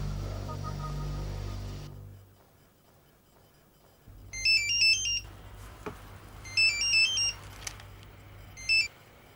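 Electronic phone ringtone in a drama scene: repeated bursts of bright high chirping tones in three clusters over a low steady hum, following a short stretch of music that fades out.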